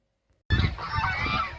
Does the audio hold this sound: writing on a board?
no